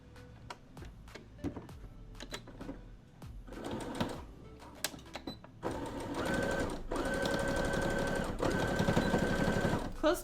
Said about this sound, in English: I'm gonna top stitch on the outside by about 1/2 inch.